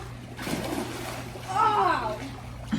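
A person jumping into a heated outdoor swimming pool, with a loud splash and churning water midway, while excited voices talk and shout over it before and after the plunge.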